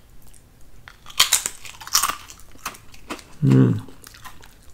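Clover Valley original potato crisps bitten and chewed close to the mic, a couple of crisp crunches followed by a short hummed murmur of approval.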